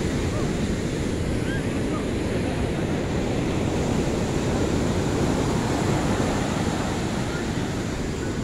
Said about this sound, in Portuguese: Aí é o marzão aí, ó.